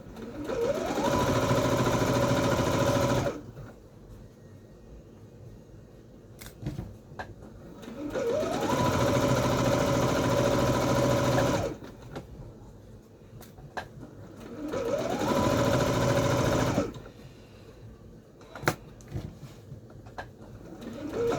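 An overlocker sewing machine stitches seams on a pair of shorts in three long bursts of steady, fast whirring, each a few seconds long, separated by quieter pauses with faint handling sounds.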